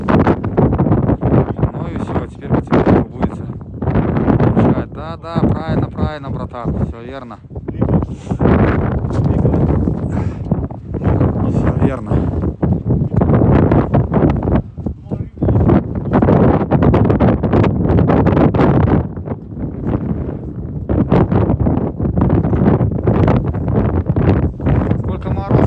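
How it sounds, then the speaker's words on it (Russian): Strong, piercing wind on a frosty December day buffets the microphone with a loud, continuous roar and gusts, while people talk under it. "Мороза немного, ветер очень сильный. Сильный ветер, за счет ветра очень холодно."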